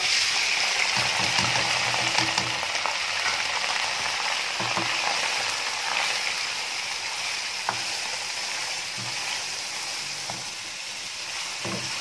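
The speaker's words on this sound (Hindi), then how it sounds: "तो इसमें हम चिकन ऐड कर देंगे और इसको हल्का सा फ्राई करेंगे।" Chicken frying in about one and a half cups of hot ghee in a pan for keema karela salan, a steady loud sizzle running throughout with occasional stirring clatters and scrapes, no voices.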